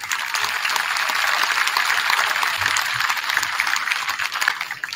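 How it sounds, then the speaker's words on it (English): Steady, dense audience applause in a school gym with bleachers during a winter band concert, continuous clapping at an even level throughout. "So we can have a round of applause for our custodians."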